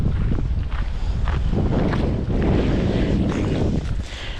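Strong wind buffets the microphone on a mangrove shoreline along Tampa Bay, a loud continuous roar with gusty surges and low rumble, no voices over it.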